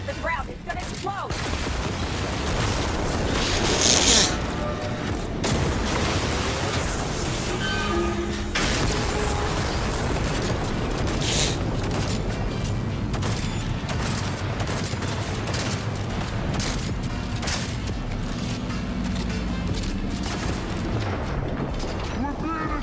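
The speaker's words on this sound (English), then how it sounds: "We hit the ground. It's gonna explode." Explosions and heavy gunfire in a video game burst out as a dense, loud barrage that lasts throughout, with voices talking over the din.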